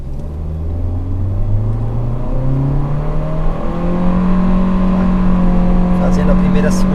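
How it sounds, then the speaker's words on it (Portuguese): Ford Ecosport or Nissan Kicks with its gearbox in Sport mode accelerates hard, the engine note climbing steadily and loudly through the revs, close and continuous, with a driver speaking over it. "Agora eu vou colocar o câmbio no modo Sport e vou fazer a mesma aceleração."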